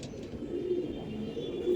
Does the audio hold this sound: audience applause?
no